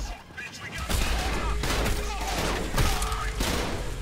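Enemy gunfire in the video game Trepang2 comes as rapid bursts of shots and heavy thumps in a dense fusillade, with a voice speaking over the shooting.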